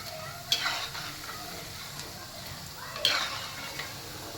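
Cabbage pakoda batter fries in hot oil with a steady soft sizzle and bubbling, plus two brief louder crackles or stirring scrapes near the pan.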